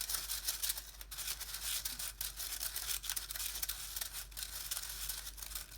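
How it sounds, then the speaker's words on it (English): Pink geode resin mix being stirred in a cup, a soft continuous scraping and swishing with faint irregular ticks, close and quiet, no voices. "Give it a good stir."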